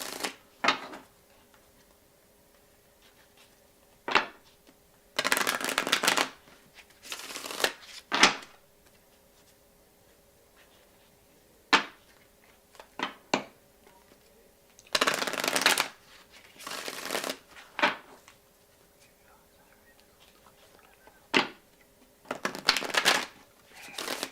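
A chakra oracle card deck being shuffled by hand in a quiet room, with repeated bursts of riffling and card slaps spread across the span, separated by near-silent pauses.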